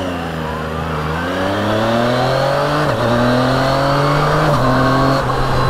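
A Yamaha Tracer 900 GT motorcycle on a test ride revs up loud and close, its engine note climbing steadily through the gears with brief dips at each shift.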